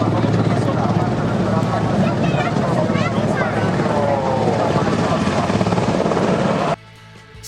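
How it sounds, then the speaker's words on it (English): A loud, steady roar from an HH-3F helicopter with rotor thump and engine whine, close by at an air show, with voices faintly underneath before it cuts off abruptly. "an HH-3F helicopter water lands at Jesolo Air Extreme, but then proceeds to fly back"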